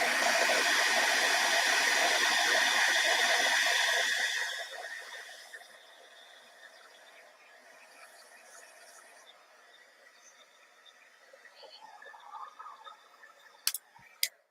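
A heat gun used for embossing blows with a loud, steady whooshing roar for about four seconds, then switches off, leaving faint ticking and a couple of sharp clicks near the end.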